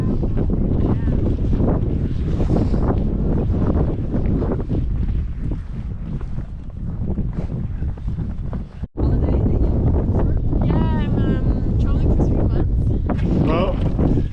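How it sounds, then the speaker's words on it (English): Strong, steady wind roars across a microphone beside a tiny mountain tarn high on a cloud-covered volcano hike, loud and continuous, with a voice speaking over the buffeting gusts. "it's so windy."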